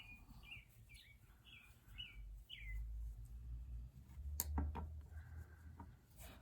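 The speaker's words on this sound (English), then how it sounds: "appreciate the sound of the birds chirping outside of my window" Birds chirp outside a window, a run of about six quick, faint tweets in steady rhythm over quiet room hum, with a soft tapping later.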